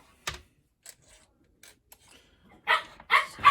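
A dog barks several times close by during a tabletop dice game, with sharp loud barks clustered toward the end after a few quieter isolated sounds.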